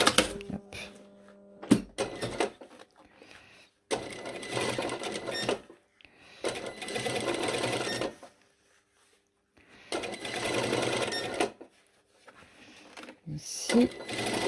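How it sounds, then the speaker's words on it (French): A sewing machine topstitches a pocket lining on trousers with a zipped fly, running in several separate bursts of rapid whirring stitching with quiet gaps and small handling clicks between them. "Je vais me faire une petite surpiqûre là sur mon fond de poche."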